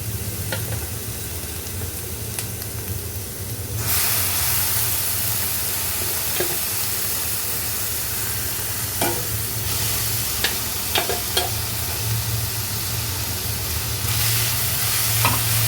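Onions and steamed cabbage sauté in a pan with a steady, close broadband sizzle, which swells louder partway through, broken by occasional clicks and scrapes of stirring; no voices.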